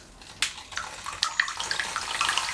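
A bidet attachment on a toilet sprays water in short irregular splashes and hisses, starting quietly and growing busier and louder toward the end, close by with no talking.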